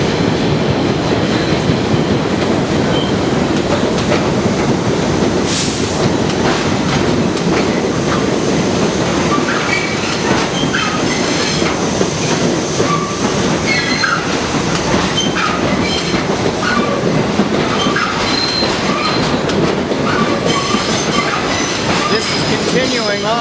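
A New York City subway train rumbles steadily along the tracks, with repeated rhythmic clacks and occasional metallic squeals over a constant loud roar.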